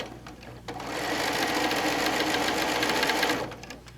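A sewing machine runs steadily for about three seconds, stitching a row of a quick quilt; the motor whirs up, holds an even rapid hum with a close needle chatter, then stops, with no talking.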